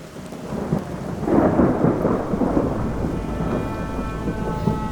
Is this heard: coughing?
no